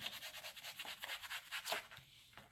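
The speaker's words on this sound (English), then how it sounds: "Now I'll be taking a brown shade and will be coloring" A brown oil pastel rubbed across paper in quick repeated strokes, a faint rhythmic scratchy rubbing sound, close and alone.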